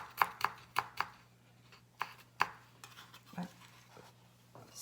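A knife chops lemongrass on a board for Cambodian green curry paste, giving sharp, close, irregular cuts in quick bursts followed by scattered quieter taps.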